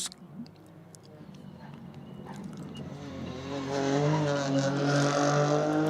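A Ford Fiesta rally car drives on a gravel stage, its engine note rising and growing louder as it nears, with a commentator talking over it.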